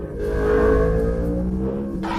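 A tuned Yamaha R1 of about 186 horsepower, still without its aftermarket exhaust, revs hard in a rising, sweeping wail that swells and then eases, loud and alone with no talk.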